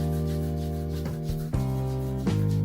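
An OmniShaver electric head shaver hums steadily as it moves over a scalp, with a raspy rubbing, brushing texture and a few brief bumps in pitch as it shifts across the head; no talking.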